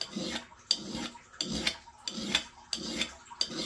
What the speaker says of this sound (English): I'll put a micro bevel on it to apex the edge, or more like a secondary bevel than a micro bevel.